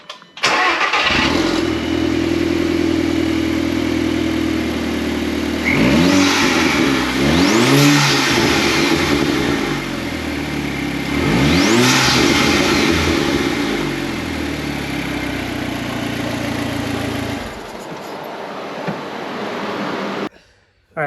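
An Audi A4 fitted with an ECS Tuning Luft-Technik cold air intake idles loudly up close, then revs sharply several times, each rev climbing and falling back, before the engine cuts off near the end.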